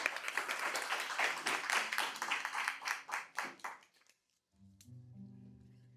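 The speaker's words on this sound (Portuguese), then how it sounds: "Vamos aplaudir a palavra de Deus?" Congregation at a Catholic Mass applauding after the Gospel reading, a dense burst of hand claps that rises and then tapers off within a few seconds, followed by quiet with a low organ-like tone.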